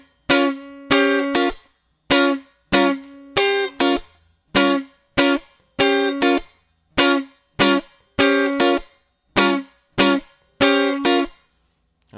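Funk guitar playing a song on the upper strings, with clipped, choppy downstroke chord stabs in a tight repeating rhythm, close and unaccompanied, no voices.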